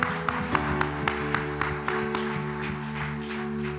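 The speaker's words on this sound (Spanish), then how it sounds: "Give him a round of applause." Church congregation applauding during a bilingual service, a steady spread of claps with sharper bursts over sustained organ or keyboard chords.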